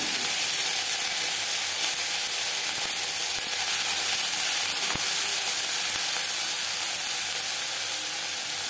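Dried red chilli and whole cumin seeds sizzle in hot tempering oil, a continuous, even hiss with faint crackles that holds steady throughout and has no talking over it.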